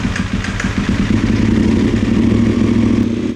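A KTM 1290 Super Adventure R, a salvage bike left standing for two years, fires up and settles into a loud, steady, lumpy engine run with mechanical clatter, heard close and alone.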